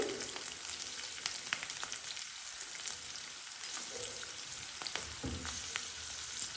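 Asafoetida (hing) is dropped into hot oil and sizzles with a steady, close crackling hiss, with a few sharper spits along the way.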